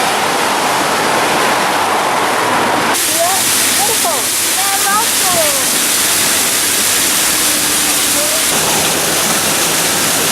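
Heavy water pours steadily over a waterfall in the Otway Ranges, a loud, dense, continuous roar with birdsong chirping faintly through the rush.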